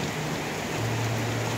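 Steady rain falls in a rural village where children play outside, a dense continuous hiss of drops hitting surfaces at moderate level with no breaks and no voices.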